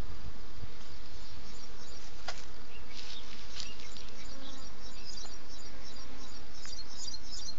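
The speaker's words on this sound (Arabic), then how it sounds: "في كثافة نحلية هنا زي ما احنا شايفين." Honeybees swarm around an open hive, a dense, continuous buzzing drone heard close with occasional individual bees passing near, and no talking.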